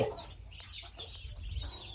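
Chickens cluck and ducks murmur close by in a farmyard, with scattered calls over a low background rumble.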